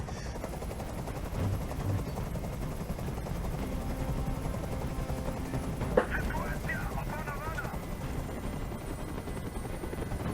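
Loud, steady helicopter rotor drone in a video game (Detroit: Become Human) fills the whole stretch, with a burst of gunfire-like cracks midway and faint voices underneath.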